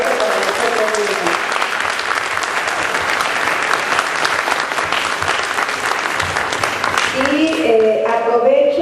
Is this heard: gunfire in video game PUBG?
no